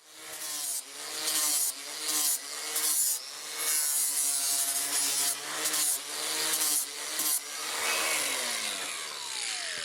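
A rasp works steadily around the edge of a horse's hoof during a trim, rounding the rim with repeated loud, close, rhythmic strokes in about a dozen bursts and no talking.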